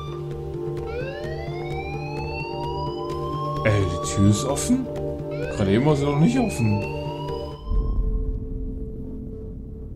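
In the video game Life is Strange, an alarm siren wails in rising sweeps that repeat steadily for about eight seconds and then cuts off abruptly, while someone speaks German over part of it.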